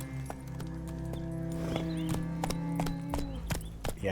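Horse hooves clip-clop in a Witcher-style video game, a close, steady series of hoof strikes over a low background hum with occasional tonal game sounds.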